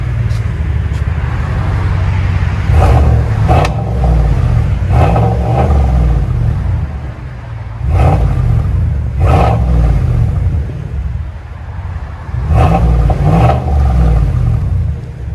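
A GMC Sierra 1500 Denali's 6.2L V8 rumbles deep and loud through a Flowmaster Super 10 Outlaw race muffler, with repeated throaty revs rising and falling over a constant low idle.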